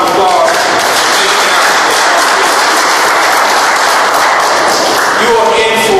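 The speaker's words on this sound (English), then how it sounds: "So give yourselves a rousing round of applause." An audience at a disaster-preparedness town hall meeting in St. Louis claps in a loud, dense, sustained round of applause that fills the room, tapering slightly near the end.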